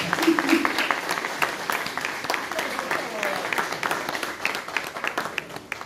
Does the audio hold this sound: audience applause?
yes